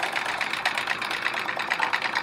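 A sewing machine stitching free motion quilting on a chevron quilt, a steady, close mechanical whir with a fast, even rhythmic chatter throughout.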